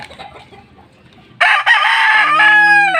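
A fighting rooster on a Filipino gamefowl farm crows loudly and close, one long strident call rising sharply after a second of quieter background clucking and farm noise.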